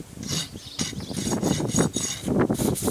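A rasp files a horse's chipped hoof with repeated rough rhythmic strokes, each a gritty scraping rub heard close up, with no talking.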